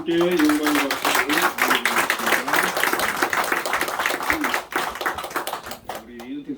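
A church congregation claps steadily for several seconds during a Sunday service, dense applause filling the room while a voice carries on over it, fading toward the end.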